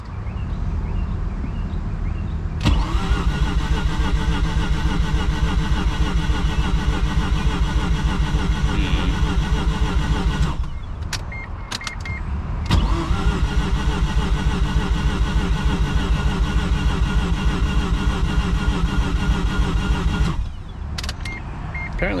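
Mazda RX-7 FD3S rotary engine cranking over after a spark plug change without catching: two long bursts of rhythmic starter churning, each about eight seconds, separated by a short pause and clicks, loud and close.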